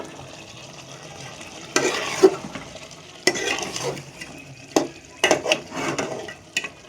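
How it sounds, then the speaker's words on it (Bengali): Meat with ginger-garlic paste frying in a pan, a low sizzle under repeated bursts of a utensil scraping and stirring, close and uneven, with no speech. "এতে মাংস দিচ্ছে ওটাকে ভালো করে জুজাত করে কষে নিব"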